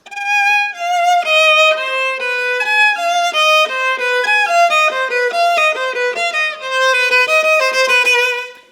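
A viola plays a rapid written accelerando passage from Bartók's Viola Concerto, notes crowding closer together and speeding up toward the end, loud and continuous.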